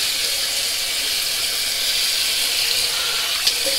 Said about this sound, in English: let's rinse it off with some cold water